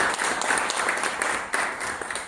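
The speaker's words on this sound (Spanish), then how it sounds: "Nada, un aplauso." A conference audience at a tech talk claps together, a dense burst of applause with scattered louder claps, holding steady for a couple of seconds before easing.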